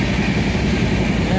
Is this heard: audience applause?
no